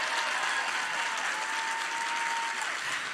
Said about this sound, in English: Applaud, applaud.